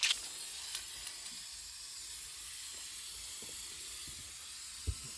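Activator sprayed onto hydro-dipping film for shoes, a steady fine hiss lasting throughout, close and fairly quiet, with a few faint knocks underneath.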